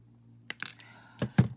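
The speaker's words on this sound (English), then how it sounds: "I am going to take my wire cutters and just snip that off" Wire cutters snip off a piece of wire during a handmade craft project, giving a few short, sharp close clicks with two firmer snaps near the end, over a quiet room hum.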